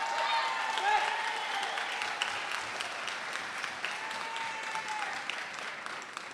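Audience clapping fills a community school-closure meeting in a Chicago school gymnasium, a dense, steady wash of applause held at an even level throughout, with faint voices mixed into the crowd noise.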